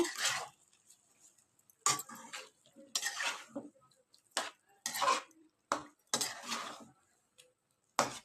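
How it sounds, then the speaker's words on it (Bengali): Intermittent metal clanks and scrapes of a spoon stirring mixed vegetable curry with a little sugar in a cooking pot, arriving in short bursts of a second or so with quiet gaps between, close and moderately loud, no talking. "এবার একটু ভালো করে নাড়াচাড়া করে"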